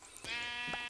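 A single short sheep bleat from a Minecraft sheep, close and clear, alone.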